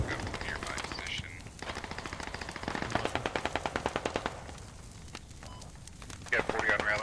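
Rapid automatic gunfire in a military shooter video game rattles in several bursts, with one long fast string of evenly spaced shots in the middle, moderately loud beneath a player's speech.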